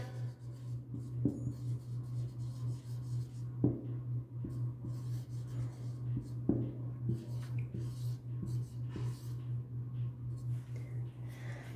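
Pen or pencil writing the number 2010 out in words on paper in a classroom maths exercise, soft steady scratching with occasional taps, quiet and close over a constant low electrical hum.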